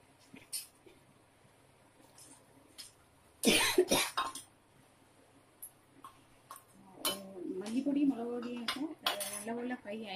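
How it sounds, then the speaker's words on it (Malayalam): Someone coughs sharply from the fumes of chili and coriander powder frying for a Kerala mulaku curry (vatha kuzhambu). Clinking utensils and pot sounds come and go around the coughs. "അതാണ് ആ ചുമ വരുന്നത്."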